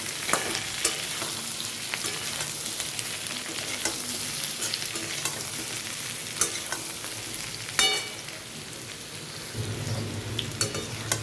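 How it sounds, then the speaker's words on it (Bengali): Potato and pointed gourd frying in a pan, a steady close sizzle with the scrape and clatter of a utensil stirring the pieces at intervals, no voices. "এখন এটা খুব ভালো করে ভাজা করে নেব"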